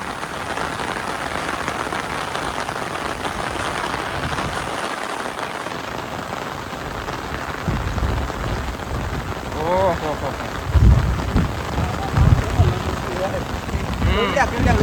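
Heavy rain drums steadily on surfaces, loud and close, with deep rumbles that may be thunder and voices of people talking over the downpour in the second half.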